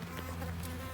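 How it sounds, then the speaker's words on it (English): Honeybees flying in and out of a hive entrance, a steady close buzzing drone with no talk, continuous through the brief moment. "this is the bee entrance over here, and the bees are coming and going in and out of their hive, their home"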